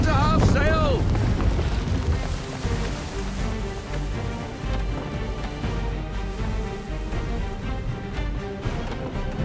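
A sailing ship under half sail in Assassin's Creed 3, a steady roar of wind and rushing water over the hull that fills the whole stretch, with a brief sweeping tone near the start.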